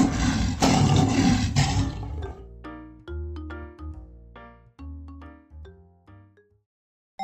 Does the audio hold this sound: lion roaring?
yes